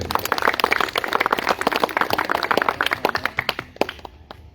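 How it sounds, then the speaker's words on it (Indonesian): Audience at a Surabaya junior high school graduation ceremony clapping steadily, many close, sharp hand claps in a dense burst that thins and fades out toward the end, with no talking. "Berikan tepuk tangan."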